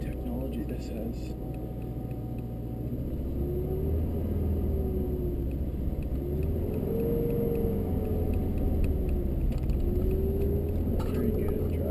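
A 1987 Subaru XT with almost no brakes drives along, its engine a steady low drone over continuous road rumble, with a faint tone that rises and falls as the revs change.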